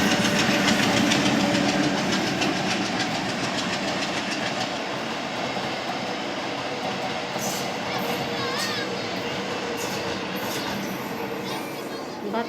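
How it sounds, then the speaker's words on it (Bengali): A Bangladesh railway train passes nearby, a loud, broad rumble with rail clatter that is strongest at first and slowly eases, with faint bird chirps in the later part. "ট্রেন আসছে, বাংলাদেশের ট্রেন এটা।"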